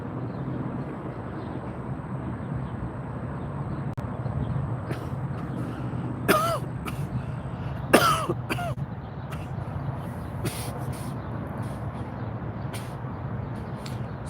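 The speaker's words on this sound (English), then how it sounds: "As soon as I said that, I coughed." A man coughs and clears his throat a few times in sharp bursts after smoking a hash-filled joint outdoors, with low background rumble between the coughs.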